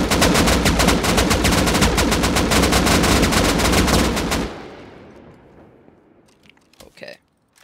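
Sustained loud machine-gun fire at a chest in Rust, a rapid steady stream of shots for about four seconds, then trailing off into echo, with a brief voice near the end.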